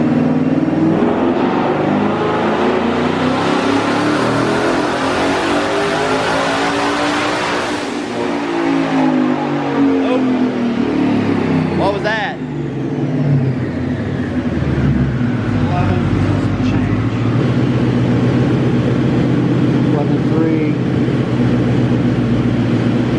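A twin-turbo 2020 Mustang GT running on a dyno on 93 pump gas, its engine roaring loud and close as it climbs through the revs in a long pull, then drops back and settles to a lower drone.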